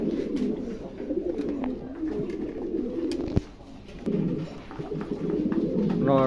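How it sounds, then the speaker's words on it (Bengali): A pair of Andalusian pigeons coo softly and repeatedly at a pigeon loft, with low rolling calls throughout, a brief sharp knock midway and steady background ambience. "দুটো কবুতরই অ্যান্ডালুসিয়ান, দেখার মতন আছে।"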